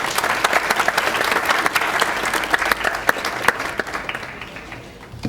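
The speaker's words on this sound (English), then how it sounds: "Luis Campos. Little applause." Applause for Luis Campos at a 1998 regular city council meeting: a steady patter of clapping from a small gathering, moderately loud and continuous for about five seconds before thinning slightly at the end.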